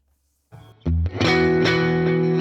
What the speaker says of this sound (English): If I bring in the delay by turning up the mix,